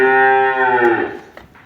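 A dairy cow at a cattle sale lets out one long, loud moo close by, its voice holding steady before trailing away into quiet.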